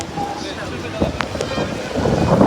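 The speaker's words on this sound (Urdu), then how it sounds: "بارش ہو رہی ہے اور کافی تیز ہوا چل رہی ہے" Heavy rain and strong wind sweep through an outdoor setting in Makkah, a steady broadband roar with gusty swells that grows slightly louder toward the end.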